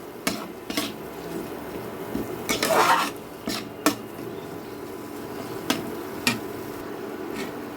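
Salt being stirred into a spice mix with slit green chillies in a pan for a hilsa fish head and pumpkin dish, with sharp spoon-on-metal scrapes and knocks at irregular intervals over a low background, with no voices.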